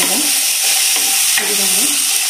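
Tomatoes and vegetables simmer in a pan for a curry with a constant loud hiss of frying, while a few soft scrapes of stirring rise and fall in the background. No one talks.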